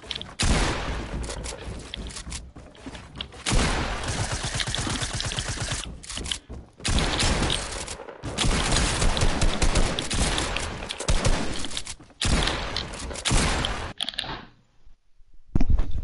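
Dense, loud automatic gunfire fills a video game 1v1 match, firing in long rapid volleys with short breaks between bursts and a brief lull near the end.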